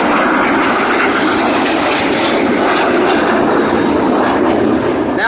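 Red Arrows jets fly past at an airshow, a loud, continuous engine roar holding steady throughout, close overhead with no speech.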